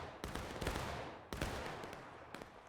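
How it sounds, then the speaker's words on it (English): Scattered volleys of musket fire in a war video game, an American Civil War battle with Union troops, cracking out in a few sharp bursts that decay with a rolling echo, fairly faint. "They're in here in the open taking shots."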